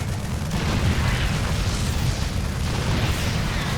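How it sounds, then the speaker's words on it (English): Siege tanks shelling a base in the real-time strategy game StarCraft 2, a dense, continuous barrage of booming blasts and crackling impacts, loud and unbroken throughout. "his base is being absolutely torn apart by these siege tanks"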